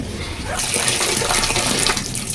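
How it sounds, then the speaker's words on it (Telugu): Water runs steadily from a hose or tap onto potted plants in a garden, a continuous splashing hiss that starts a half-second in and carries on loud and close. "నీళ్ళు వేస్తాను మొక్కలకి"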